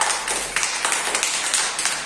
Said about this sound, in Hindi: शाबाश, तालियां बजाओ इसके लिए सब।